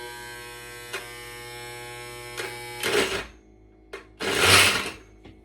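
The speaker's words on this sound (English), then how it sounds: "Now I'm gonna add it to the blender." A kitchen blender grinds diced yam with a little water. It runs in short loud bursts separated by pauses, with a steady electrical hum between them.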